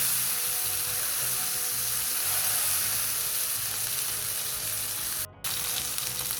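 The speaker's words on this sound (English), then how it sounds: "nice sizzle right there" A beef patty sizzles and spits in a hot frying pan, a steady, bright crackle that holds close and loud the whole way, with one brief dropout near the end.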